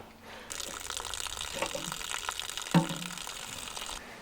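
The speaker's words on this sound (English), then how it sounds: "when I turn it, it squirts water straight over the starter motor" Water squirts from a brass drain tap on a tractor engine, a steady close hissing spray that starts abruptly, runs for several seconds with a sharp clunk partway through, then cuts off.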